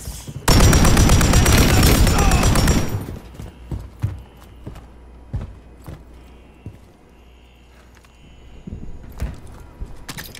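Loud rapid burst of automatic gunfire in the Call of Duty: Modern Warfare 3 campaign, a dense volley lasting a couple of seconds, followed by sparse scattered shots and thuds at lower level.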